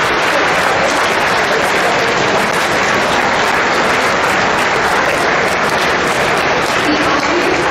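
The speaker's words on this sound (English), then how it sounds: "We honor your sacrifice with another round of applause." Audience at a school Veterans Day assembly applauds in a sustained, loud, even wash of clapping that holds without break from start to finish.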